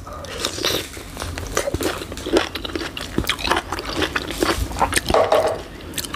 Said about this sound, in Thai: กัดไปจะเจอเม็ดตรงกลางจ้ะ